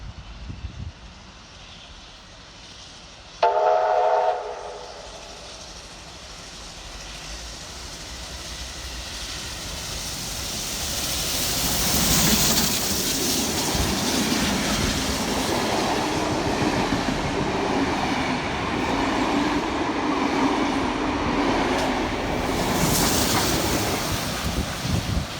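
Steam locomotives 3801 and 3526 rumble past at Banksia in New South Wales, the rolling roar and wheel clatter swelling steadily and then holding loud and broad as the heritage train runs by.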